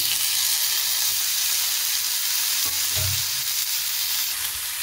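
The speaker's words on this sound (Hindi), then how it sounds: "तब तक भूनेंगे जब तक टमाटर गल ना जाए" Onion and tomato fry in a pan with a loud, dense, hissing sizzle that runs unbroken throughout, close up, with a faint low knock of a utensil near the end and no talking.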